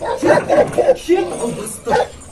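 Dog barks and yips in short bursts, close by, mixed in with voices talking over them.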